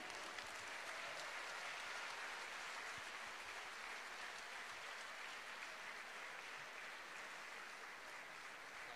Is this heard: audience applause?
yes